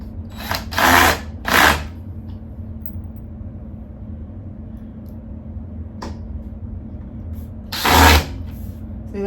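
A power drill pre-drills holes in an IKEA Vittsjo shelf during assembly: short whirring bursts in a quick pair, a long pause with a faint click, then one more burst.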